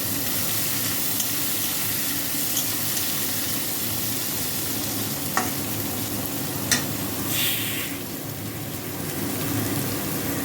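Chopped onion sizzles in hot tempering oil already holding whole bay leaves, dried red chillies and cumin, with a steady close frying hiss throughout and a few faint clicks of stirring.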